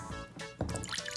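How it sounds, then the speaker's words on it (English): Water poured into a container for a gummy bear osmosis experiment, a short close splash and trickle with a brief gush midway, fairly quiet and alone. "now I'm going to pour in the water."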